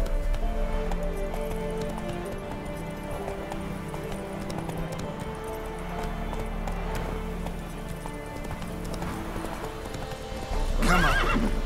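Roach, a horse in The Witcher 3, gallops with rapid rhythmic hoofbeats throughout and gives a sharp neigh near the end. The hooves sound close and loud, and faint speech sits in the background.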